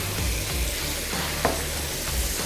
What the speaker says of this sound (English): As soon as you add it to it, it should start sizzling, as it is doing now.